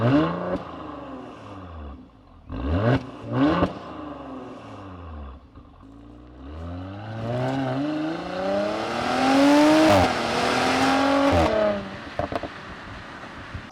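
A Mercedes C450 AMG with twin exhaust tips revs loudly up close, engine pitch climbing and falling through repeated accelerations, with clattering bursts and a sustained roar building toward the end.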